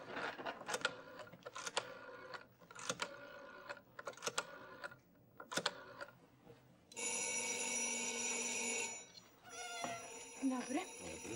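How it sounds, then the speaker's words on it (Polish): A telephone rings in a comedy cabaret sketch: after several sharp knocks, a loud continuous electric ring sounds for about two seconds, stops briefly, then rings again. "Zobaczyłam telefon, że on sam dzwoni"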